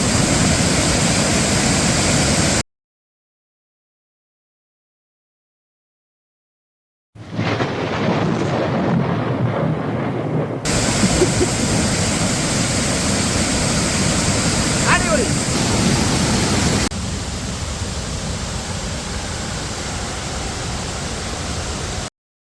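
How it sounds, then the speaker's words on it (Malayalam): The Kannampadi waterfall, swollen after heavy rain, roars as a loud continuous broadband rush of falling water. The roar cuts out briefly for a few seconds, then returns just as dense and steady, softening a little near the end. "ഇതാണ് ശരിക്കും കണ്ണമ്പടി വെള്ളച്ചാട്ടം."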